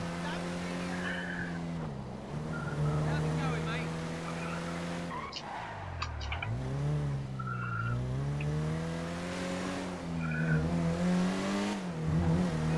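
Engine of a car in Grand Theft Auto V, a car with weak brakes, revs up and down in repeated rising whines, with tire skids and squeals between the surges, under the steady game engine drone.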